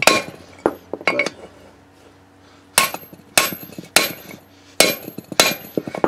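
Sharp metallic hammer blows strike a brake rotor on a 1987–1996 Ford F-150 or Bronco, ringing out in irregular bursts, some single and some in quick pairs, each leaving a bright clanging ring.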